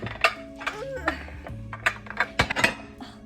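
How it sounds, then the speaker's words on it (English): Metal pots and pans clank and clatter as they are lifted one by one off a kitchen stack while baking, a string of sharp knocks and clinks at close range with a few scraping sounds between them. "I have to take down all these pans or whatever, because the one I need is at the very bottom"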